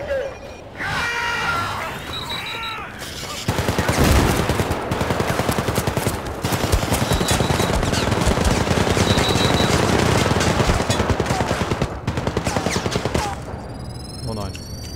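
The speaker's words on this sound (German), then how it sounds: "dass hier eine Million Raketen explodieren und geschossen wird" Rapid automatic gunfire rattles loudly and almost without pause, with booming rocket blasts and a brief voice early on, all heavy and close, from the video game Syndicate.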